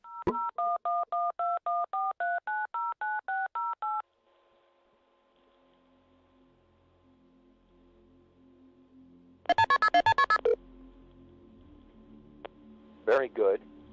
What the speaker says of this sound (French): En appelant ce numéro de téléphone